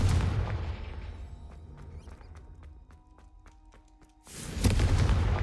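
A Confringo spell explosion in the Hogwarts video game: a heavy booming blast fades out, light ticks and steps follow in the quiet, then a second loud rumbling burst lands near the end.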